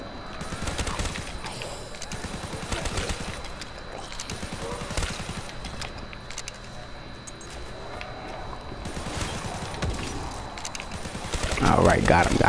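Gunfire from a shooting game, Call of Duty Black Ops 3 Zombies, with dense bursts of shots throughout, heavy volleys near the start, middle and end, and a voice talking over the action.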